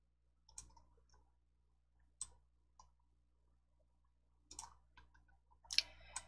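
Five or six crisp computer mouse clicks, spaced irregularly and heard close up against a near-silent background.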